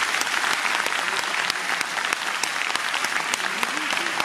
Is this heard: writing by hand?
no